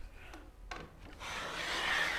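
A rabbet plane shaves wood to rough out a molding profile, making faint, brief rubbing and scraping strokes that build into a longer, smoother pass.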